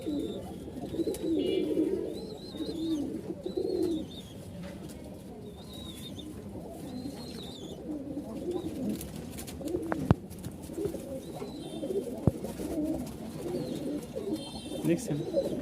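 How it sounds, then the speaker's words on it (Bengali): Two pairs of Giribaj and Lakkha pigeons, males courting females, give repeated soft cooing calls at close range under steady background voices and chatter. "তো এই এখানে হচ্ছে 2 জোড়া কবুতর দেখতে পাচ্ছেন"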